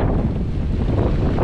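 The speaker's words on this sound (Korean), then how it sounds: "바람이 파도가 세." Strong wind buffets the microphone in a steady roar at the Indian Ocean shore near Perth, with waves washing underneath throughout and no voices.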